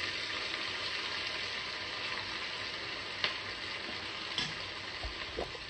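Tomatoes and onions frying in a pan for sambar tempering: a steady, even sizzle with a few soft stirring clinks and taps near the end, close by, with no voices.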